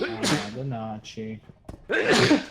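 Sneezes bursting out during a livestream game session, a sharp close sneeze near the start and another louder one near the end, with speech in between.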